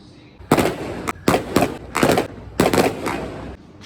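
Outdoor fireworks bang and crackle in a rapid irregular string of loud bursts over a few seconds, heard from indoors beside a building, with no talk over them.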